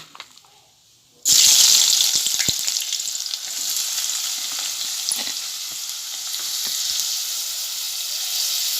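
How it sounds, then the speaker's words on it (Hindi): Sliced onions hit hot oil in a pot on a gas stove, erupting into a loud, bright sizzle that settles into a steady frying hiss with occasional stirring clinks. "तेल गर्म हो चुका है। अब मैं इसमें प्याज डालूँगी।"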